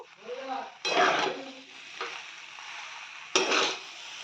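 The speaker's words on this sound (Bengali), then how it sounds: "এবার দিয়ে দিচ্ছি সেদ্ধ করে রাখা পাস্তা আর চাউমিন এবার ভালোভাবে নাড়াচাড়া করে নেব" Boiled pasta and chow mein being stirred in a wok, with bursts of scraping and clattering from the spatula against the pan separated by short quieter gaps, close and fairly loud.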